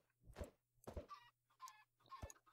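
Chickens in the Minecraft video game cluck in a series of short, clipped game-sound clucks and squawks, about five bursts with gaps between, quiet and without talk.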